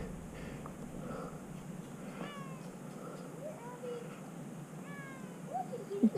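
A rescued cat meowing faintly several times, thin rising calls spaced apart at a distance, with soft background noise and a brief closer sound at the end.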